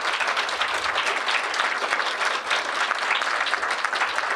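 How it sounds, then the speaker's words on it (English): A town-hall debate audience gives its four panelists a round of applause, a loud, dense and sustained burst of clapping from a sizable crowd with no speech over it. "let's give them a round of applause"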